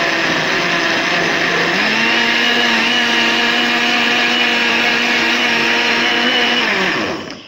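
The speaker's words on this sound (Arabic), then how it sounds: "هنا اللي درتو في الخلاط الكهربائي،" An electric blender mixing pancake batter runs loudly with a steady whirring motor hum, its pitch dipping slightly early on, before winding down at the end.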